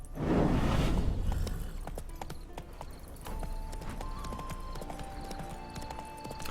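Horse hooves clip-clop in The Witcher 3, a burst of galloping hoofbeats that fades after a second, followed by a horse's whinny and spooked snorting over soft in-game ambience and music.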